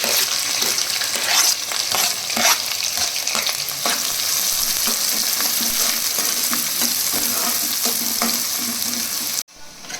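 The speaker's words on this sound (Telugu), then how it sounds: "ఇప్పుడు ఆనియన్స్ పచ్చిమిర్చి వేసేసి మంచిగా రెడ్గా వేయించుకున్నాను" Onions and green chillies fry in hot oil for country chicken curry, a dense, loud, continuous sizzle broken by frequent spatula scrapes and stirs, close up, cutting off abruptly at the end.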